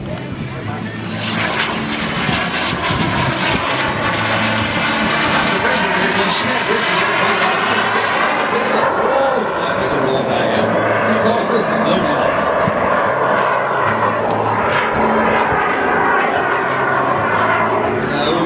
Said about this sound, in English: Justin Schmidt is inside the airplane.